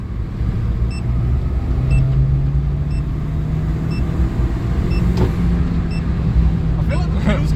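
A car engine blips up in revs during a rev-matched downshift, a rising drone over steady road rumble, with faint, regular beeping and voices talking in the background.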